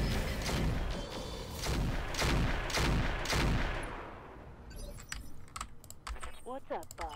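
Bursts of robot weapon fire in the mech game Roguetech: a rapid series of sharp, evenly spaced shots over several seconds, then scattered clicks and fading echoes.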